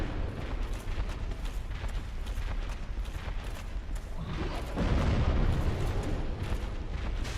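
Fire attacks from a boss in Dark Souls roar as a dense, rumbling blast of flame and impacts, steady at first and then swelling louder partway through, with no talking.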